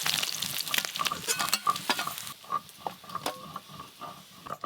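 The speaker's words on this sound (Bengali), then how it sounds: "পুকুরের জ্যান্ত মাছ তো একদম হালকা করে ভেজে নিয়েছি," Live pond fish fry lightly in a pan with a loud, crackling sizzle, broken by scraping stirs and spatula taps that ease off as the oil settles.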